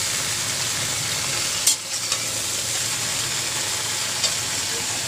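A vegetable curry frying in a pan gives off a steady, even sizzle that runs unbroken at close range, with one or two brief knocks and no talking.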